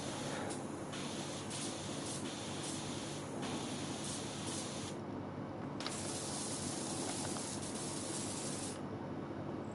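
A pressure washer in Power Wash Simulator sprays continuously with a dense, hissing rush, the bright top end dropping in and out as the jet shifts across surfaces, with no talking.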